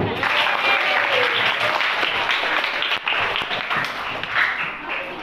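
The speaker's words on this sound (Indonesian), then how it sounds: "Tepuk tangan dulu." Audience of junior high school students applauding at a school leadership training event in Indonesia, a steady, loud wash of clapping that lasts throughout.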